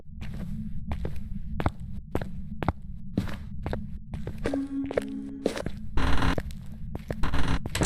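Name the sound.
ghost footsteps heard through parabolic microphone, ghost-hunting video game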